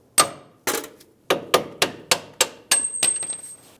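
Sharp metallic strikes ring out about eight times in an uneven rhythm, close and clear, each decaying quickly, as work proceeds on the last bolt of a front strut assembly on a 2011-2017 Honda Odyssey.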